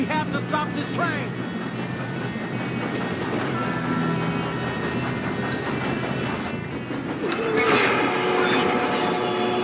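Moving train in Red Dead Redemption 2, a steady rumbling roll with rail clatter and occasional squeal running throughout, loud and continuous under a game soundtrack and voices, swelling louder near the end.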